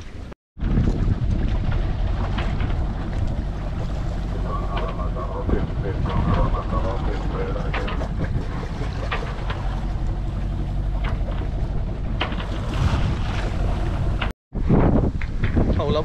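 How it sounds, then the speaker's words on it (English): Wind of about 26 to 28 knots roars over a sailboat running downwind off Cascais, a loud, continuous rush of buffeting noise with a short dropout near the end. "like 26 to 28 knots of wind here, going with the wind, luckily."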